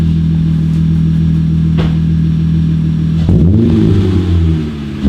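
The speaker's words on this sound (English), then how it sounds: "I'm gonna let the car warm up a little bit, and then I'm gonna give a couple revs so I can hear what it sounds like" An Acura TL engine idles with a steady low drone while warming up, then gives a loud rev that rises and settles back, heard up close with no talk.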